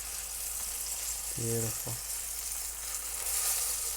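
Thin floured beef slices frying in a pan, a steady close sizzle throughout, with someone briefly speaking over it midway.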